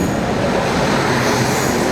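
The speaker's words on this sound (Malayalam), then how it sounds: "തിരുവനന്തപുരത്തേക്ക് പോകുന്ന ശബരി എക്സ്പ്രസ് ആണ്." The Sabari Express bound for Thiruvananthapuram at Kollam station makes a loud, steady rumble of rolling wagons, close and unbroken, with no voices.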